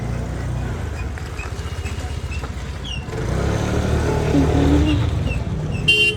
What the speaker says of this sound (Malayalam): നമ്മൾ ബൈക്കിൽ കയറാണ്